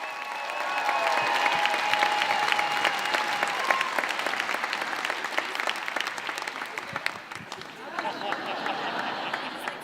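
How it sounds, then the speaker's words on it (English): Audience applause for a storyteller at a live storytelling show, a steady sustained round of clapping from a crowd that carries through nearly ten seconds, with brief vocal sounds mixed in near the end. "please start clapping now and give it up for the first storyteller of the second half, Sam Young!"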